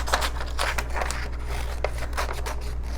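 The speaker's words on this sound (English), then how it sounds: "now my next step is to cut it out" Scissors snip around a colored paper drawing, a close, steady run of short crisp cuts and rustles over a constant low hum.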